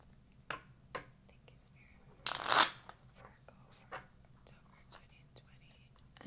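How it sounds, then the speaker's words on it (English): Tarot cards being shuffled, one loud riffle burst in the middle amid scattered soft card taps and slides, close and quiet, with faint whispery background. "So we're gonna go ahead and do our shuffle"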